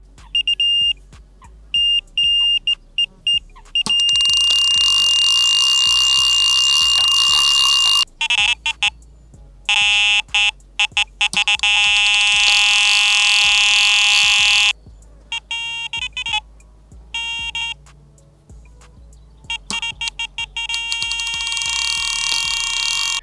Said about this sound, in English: have a sample of some of the sounds that might come from these alarms